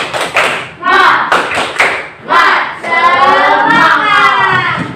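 Children clap in a quick rhythmic pattern, calling out together between and over the claps, close and loud as in a classroom.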